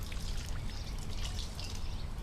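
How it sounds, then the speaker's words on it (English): Water pours and trickles steadily from hand-washed laundry as it is squeezed out, a continuous close splashing dribble with no talking. "squeeze a little bit of the water out."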